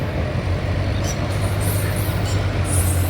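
A train rushes past at speed, a loud, continuous low rumble of wheels and carriages with faint high squeals now and then.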